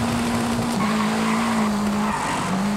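Car tires squeal steadily as the wheels spin and skid in the Forza Horizon 5 racing game, a continuous loud screech over engine noise, pitch dipping briefly a couple of times, with no voices.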